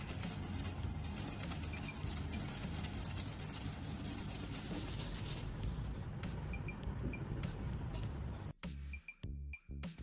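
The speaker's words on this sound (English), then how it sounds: "First, I sanded the reflective layer with coarse sandpaper." Coarse sandpaper rubs the reflective layer of a CD in a continuous, close, gritty scraping that runs steadily for several seconds, then breaks into short strokes with brief pauses.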